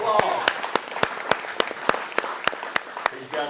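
Steady, evenly spaced sharp claps ring out at an expo gathering, about three or four per second, close and distinct, with voices talking underneath.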